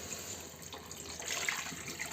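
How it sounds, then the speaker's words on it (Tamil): Water pours into a mixer grinder jar in a home kitchen while making fish curry, a short steady splashing trickle, close and moderately loud with no talk. "மிக்சர் ஜாரில் தண்ணி ஊற்றி நம்மளுக்கு எவ்வளோ தண்ணி வேணுமோ அவ்வளோ தண்ணி ஊற்றிக்கலாம்"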